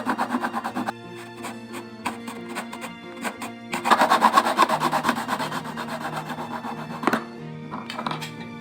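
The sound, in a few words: cutting a tree branch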